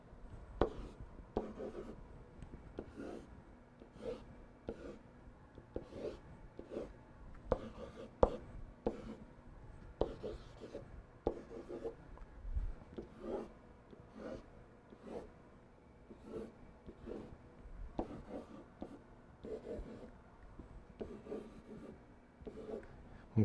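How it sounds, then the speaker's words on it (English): Pen strokes draw phylogenetic tree diagrams by hand, making faint, close scratching and tapping in irregular bursts with brief pauses, quiet and alone throughout. "and I'm going to draw them for you right now."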